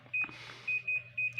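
A rapid series of short electronic beeps from a Daikin air conditioner, checked via remote control for error codes, repeats in quick succession over a low background hum, with a brief rustling noise between them.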